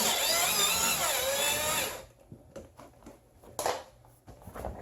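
A power drill whirs steadily for about two seconds driving screws into a gaming chair base, then stops, leaving quieter clicks and knocks of handling parts.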